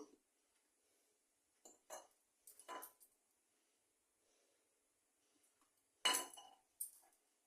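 Several sharp glassy clinks and knocks of glass bottles come in short bursts separated by quiet gaps, with a brief pouring rustle of liquid; no voices.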